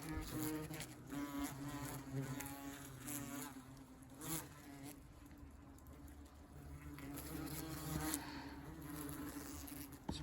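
Yellow jacket wasps buzzing around an extracted nest, a close, continuous droning hum with wings rising and falling in pitch as individual insects pass near.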